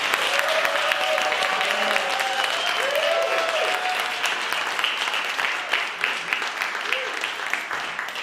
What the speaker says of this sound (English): let's give Dale a massive round of applause